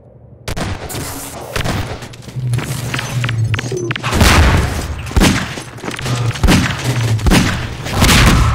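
Repeated RPG rocket blasts and gunfire in a Half-Life 2 Deathmatch match, loud booming impacts scattered irregularly over several seconds with overlapping bursts, no talk.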